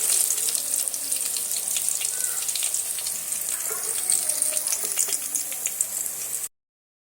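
Rohu fish frying in hot oil for a cauliflower and potato curry, giving a steady, close hiss and crackle of sizzling that runs unbroken for several seconds and then cuts off abruptly to silence.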